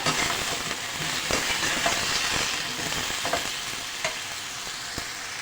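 Peeled, soaked apple pieces are stirred and fried with cumin and fennel in a pan, giving a steady close sizzle with repeated scraping stirs and no talk.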